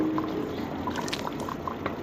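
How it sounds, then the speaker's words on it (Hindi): Yogurt going into a pot of simmering beef korma, a soft wet pouring and bubbling noise that stays steady and close for about two seconds, with no voice over it. "अब हम इसमें जो है दही डाल देंगे"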